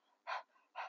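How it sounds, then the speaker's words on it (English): Two loud, close panting breaths spaced about half a second apart, made with the tongue out in dog-like fashion as part of a breathing exercise. "So I recommend sticking your tongue out and start panting like a dog."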